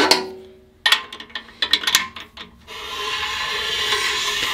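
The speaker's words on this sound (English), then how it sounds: "all that is right there is the blade going around the cylinder, not doing anything" A cylinder ridge cutter blade turns inside an engine cylinder, first giving a few sharp, uneven scraping strokes, then settling into a steady, close metallic grinding rasp.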